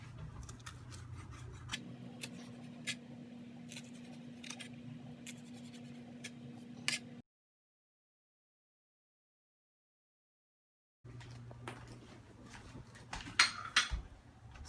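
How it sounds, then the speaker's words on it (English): A knife chopping fresh basil on a board for a pasta sauce, quick close crisp cuts in irregular bursts, then a few seconds of silence before the chopping resumes with some louder knocks, no talk. "we are going to take our basil and chop it"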